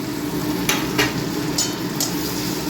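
Onions fry in oil in a pan for a tilapia fish curry, a steady close sizzle with a few light stirring scrapes and no talking.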